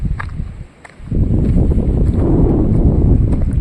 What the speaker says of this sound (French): Bon, il y a du vent. Il y a du vent.